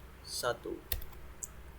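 Keystrokes on a computer keyboard while a file name is typed in, a few quick clicks spread unevenly over a couple of seconds, fairly close and soft, with faint voice sounds in the background.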